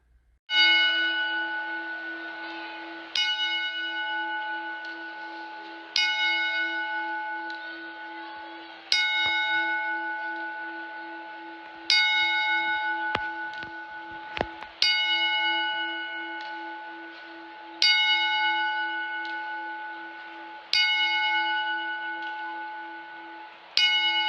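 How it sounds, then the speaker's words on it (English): A bell rings ten times in a slow, even sequence, each loud ringing strike spaced about three seconds apart and left to fade before the next, with no voices. "let's give him a 10-bell salute"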